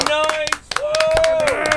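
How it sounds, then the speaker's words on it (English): A round of applause at a rock show, with scattered sharp claps under a loud, sustained voice that carries through most of the moment. "Let's hear a round of applause."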